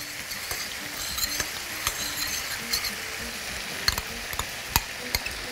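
Green onion fries in butter and garlic in a pan, a soft steady sizzle broken by sharp clinks and taps of a utensil stirring against the pan, fairly quiet and close, with no talking.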